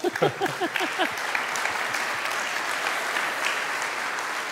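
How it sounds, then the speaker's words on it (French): Audience applause at a retail conference opening plenary, with a few distinct claps at first swelling into steady, full clapping from a large crowd that continues to the end. "Je pense qu'on peut applaudir"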